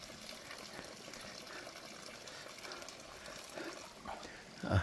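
Spring water runs steadily at a mountain water station on Mt. Pulag, a continuous soft splashing flow, with a louder gush near the end.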